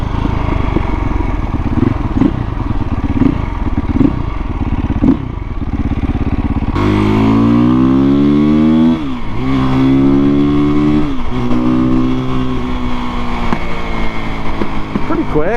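A Husqvarna dirt bike rides and revs up close, its engine note climbing and falling in repeated strong pulls after a rougher, muffled stretch, loud throughout.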